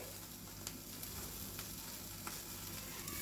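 Paneer malai tikka roasting over an open gas flame gives a steady, close sizzle and hiss with a few faint ticks, continuous and without voices.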